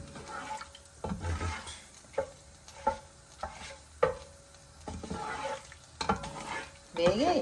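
Ingredients for tomato rice are stirred and fried in a pan of hot oil after cumin, giving spoon scrapes and light sizzling in irregular bursts, with sparse background sounds.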